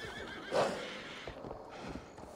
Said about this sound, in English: I think I need to get the horse here.